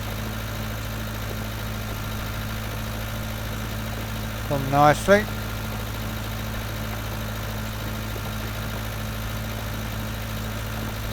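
Steady low tractor engine idle hums continuously in Farming Simulator 19, unchanging and moderately loud, with someone briefly talking over it midway.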